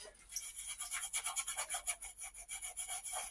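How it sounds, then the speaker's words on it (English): An old sticker is scrubbed off a lamp with a quick back-and-forth rubbing rhythm, about a dozen close, soft scratchy strokes in a row with no voices. "There's still that sticker that was on here, and I never did take it off, so I'm just going to scrub it off."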